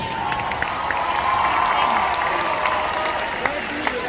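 An audience claps and cheers at a U8 cheerleading provincial awards ceremony, steady applause and crowd noise for about four seconds while an announcer talks over it.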